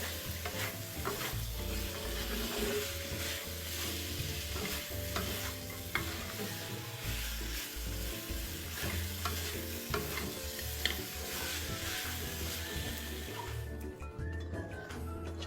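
Shiitake mushrooms stir-fried in pork rib marinade in a hot wok give a steady close sizzle, with a spatula scraping and clattering throughout.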